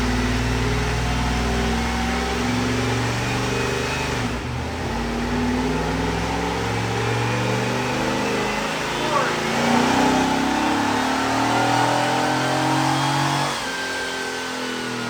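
Stock 1995 Chevrolet Camaro Z28 V8 pulling in second gear on a chassis dyno, a loud sustained engine drone rising steadily in pitch with a brief dip partway, voices faintly underneath.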